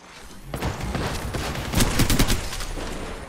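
Rapid repeater gun fire in Apex Legends, a dense burst of close, loud shots that starts after a brief lull and builds into a tight cluster of heavy reports before easing off.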